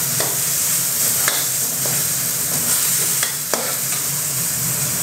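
Minced pork with a splash of water sizzles steadily in a pan for a pad gaprao stir-fry, with a spatula scraping through it in several sharp strokes.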